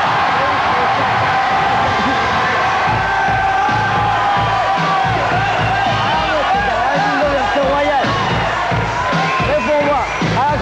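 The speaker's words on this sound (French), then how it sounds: "On entendait déjà la foule frémir" A crowd stirs and cheers at a promotional event in Cannes, a dense, loud wash of many voices and shouts with scattered cries rising above, continuous throughout with nearby people talking.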